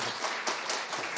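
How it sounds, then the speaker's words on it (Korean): A church congregation at a Sunday worship service claps together in a brief, close burst of mixed hand claps that fills the moment and stops quickly. "우리 박수하도록 하겠습니다"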